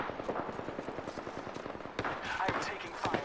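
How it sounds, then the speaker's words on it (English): Rapid automatic gunfire in the video game Apex Legends, a steady stream of crackling shots at moderate volume with a few sharper bursts near the end, heard beneath players' voice chat. "I'm taking fire."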